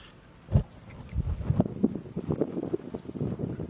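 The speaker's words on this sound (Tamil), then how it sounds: "காத்து பலமா இருக்கு" Strong outdoor wind gusts against the microphone in an open-air cooking setting, a low rumbling buffeting with irregular bursts and rustling that rises and falls over several seconds.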